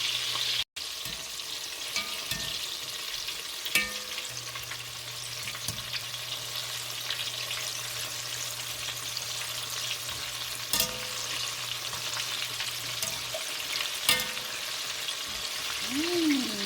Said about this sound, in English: So what you want to achieve here is to get your fritter into golden brown and crispy.